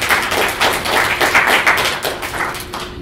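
A small audience claps in sympathy after technical problems during a talk on inclusive design, a dense, steady patter of hands that fades toward the end.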